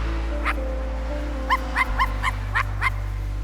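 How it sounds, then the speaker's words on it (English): A dog in the game I Am Dead gives a string of short yapping barks, a single bark followed by a quick run of six or so spaced yips over a low steady hum. "Follow the barking, follow the yupping, but really barking."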